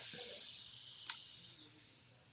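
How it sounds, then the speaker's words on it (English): A steady, faint hiss of spray paint from a can runs for over a second and a half, then stops, with quiet room sounds underneath. "And then I'm going to spray it."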